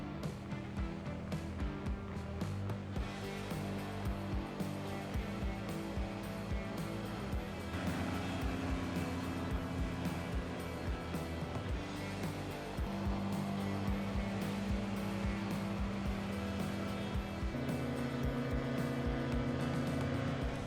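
An Alligator airboat cruises across water at about 40 km/h with its air system switched off, its engine giving a steady, loud, continuous drone with sustained tonal layers and no speech over it.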